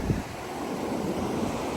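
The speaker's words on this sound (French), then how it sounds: "Voilà, la vague elle vient vraiment beaucoup plus loin que moi" Ocean waves wash up on the beach at Half Moon Bay in a steady, loud roar of surf, mixed with wind buffeting the microphone, and no voices.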